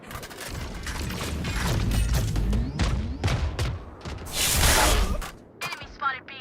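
Weapon reloading in the game Valorant: rapid mechanical clicks and metallic clatter, with a dense burst of gunfire-like noise toward the end, loud and close with no talking.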